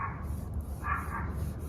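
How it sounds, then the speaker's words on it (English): A dog barks twice in a garage during a Corvette paint correction, the short muffled woofs sounding from a distance over faint background hum. "you hear that, hear my dog too"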